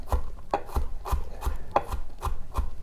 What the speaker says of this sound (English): Depending on how much it's finely chopped at this point, you can continue cutting